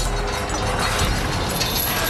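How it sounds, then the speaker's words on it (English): A chain tong spins drill pipe on an oil rig, giving a loud, continuous metallic rattling and grinding of chain against pipe amid heavy rig noise. "it will spin that pipe as I pull on that chain"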